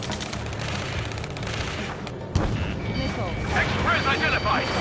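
Rapid bursts of automatic gunfire and explosions in a video game firefight, sustained and loud throughout, with a sharp crack midway and shouted commands mixed into the battle din.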